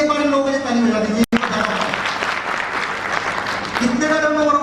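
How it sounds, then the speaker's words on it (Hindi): Audience applause at a product launch speech, a steady dense wash of clapping with a brief break, while a speaker's voice talks over it at the start and end. "प्लीज एक बार इन लोगों के लिए ताली बजा दीजिए"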